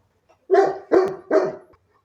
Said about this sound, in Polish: Przestań szczekać